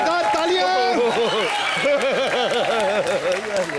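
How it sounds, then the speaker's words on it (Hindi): A studio audience at a Hindi television comedy show breaks into loud, sustained applause, with whoops and cheering voices rising over the clapping throughout. "जोरदार तालियां।"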